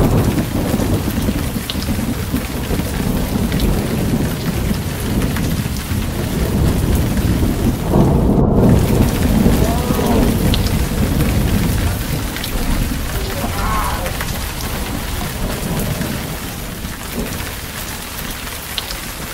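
A thunderstorm over Adams Lake pours heavy, steady rain that roars without a break, with a low rumble of thunder swelling partway through. No voices are heard.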